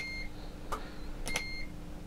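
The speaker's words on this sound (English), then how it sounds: "you can have a delay and it fires at the end of a short beep" A visual field analyser emits faint, short electronic beeps in a quiet room, a couple of brief tones spaced about half a second apart, ahead of its xenon flash.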